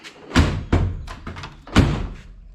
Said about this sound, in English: door closes and latches